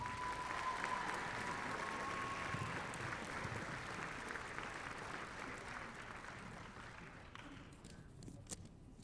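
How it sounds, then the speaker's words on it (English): Audience applause at a live National Signing Day podcast event, steady even clapping from a crowd filling the whole clip, fairly faint and distant. "Give them one more round of applause, please."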